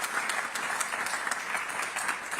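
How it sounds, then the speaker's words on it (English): A round of applause for the new Penn State head basketball coach at the Mr & Miss PA Basketball Awards, steady moderately distant clapping from an audience with no talk. "let's get another round of applause for our new Penn State head basketball coach"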